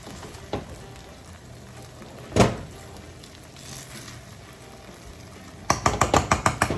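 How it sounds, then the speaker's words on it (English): A spoon stirs rice with pigeon peas and smoked bacon in a pot, scraping around the edges: a soft click, a louder scraping sweep, then a quick run of rhythmic knocks near the end. "I always go around the edges and I give it a good mix"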